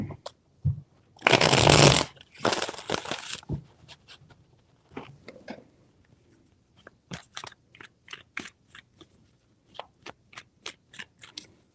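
Tarot cards being shuffled, a dense burst of riffling around the second mark followed by a shorter flurry, then a string of sharp separate taps and slaps as cards are handled and laid down, close and fairly loud with no talk.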